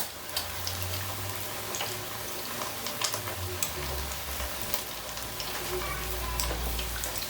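Prawns and calamari in a light, crisp batter fry steadily in hot oil, giving an even close sizzle throughout with a few faint clinks and taps.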